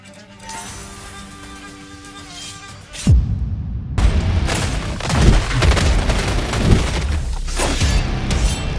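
Dense, loud gunfire and booming impacts from the zombie shooter video game Killing Floor 3, rapid shots layered over an intense game soundtrack after a brief silent break, continuous and heavy.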